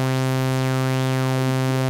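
Arturia MiniFreak synthesizer run through a wide-band peak EQ: a steady harmonic-rich tone with a sweeping resonant band gliding up and down across it, alone and moderately loud for two seconds.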